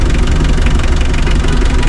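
A car engine idles close by while an auto electrician swaps its battery, a loud, steady, low rumbling drone with a faint rhythmic knock and no speech.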